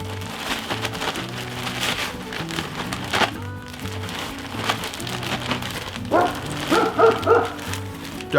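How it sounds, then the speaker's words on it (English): Dogs bark in a residential neighborhood, sharp yips and woofs that come in scattered bursts, louder toward the end, mixed with sizzling and clatter from outdoor cooking. "Dogs are barking."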